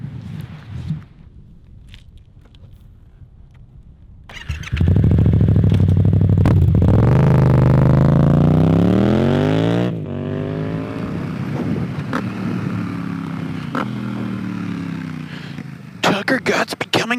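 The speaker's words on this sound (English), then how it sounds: "Let's get on the motorbike." A motorbike engine fires up after a few quiet handling clatters, then revs loud and close, rising in pitch as it pulls away. It settles into a steady riding drone, with rattles near the end.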